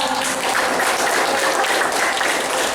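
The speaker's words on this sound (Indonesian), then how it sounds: "Beri tepuk semangat." Steady, dense applause from a classroom audience after a group presentation, continuous and fairly loud throughout with no pauses.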